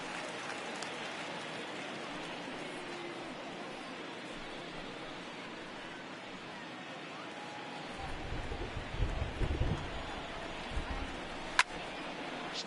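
Steady rain falls on a baseball field in a video game, a constant hiss running throughout, with some low rumbling thuds in the second half and a sharp click near the end.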